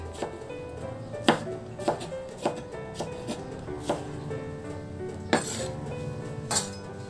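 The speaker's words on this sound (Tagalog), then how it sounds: "Tinanggal ko lang yung buto para hindi mamaya magtutubig at hiwain lang ng maliliit." A knife chops a seeded cucumber into small pieces on a cutting board, producing a steady series of close, sharp knocks at a brisk irregular rhythm, with no voices.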